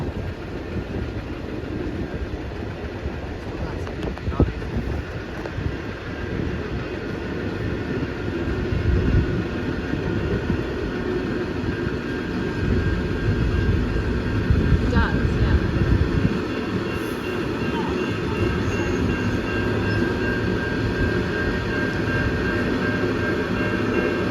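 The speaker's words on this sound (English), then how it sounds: "you get an idea here of just how big they are as the train drives past us" A very long freight train rolls past a level crossing, a steady broadband rumble with faint clicking that swells midway and continues throughout, with voices mixed in under the noise.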